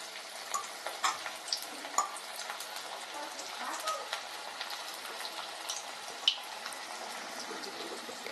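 Drumstick flower fritters frying in hot oil on a gas stove, a steady soft crackling sizzle with scattered small pops, faint and continuous throughout with no talking.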